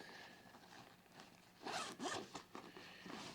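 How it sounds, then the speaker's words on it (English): A waterproof zipper on the back pocket of a tactical crossbody fanny pack is pulled open in a few quick, close, raspy strokes, preceded by soft handling rustle. "The one in the back, which goes against your body, is a waterproof zipper."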